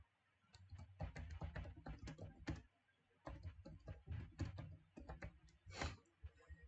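Rapid clicking of computer keyboard keys as a search query is typed, in quick bursts with a short pause midway, fairly quiet and close with no talking.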